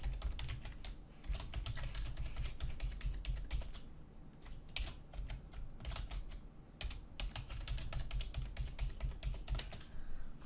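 Rapid typing on a computer keyboard while entering login credentials in a Windows 10 setup, with steady clattering keystrokes and brief pauses, close and alone without speech.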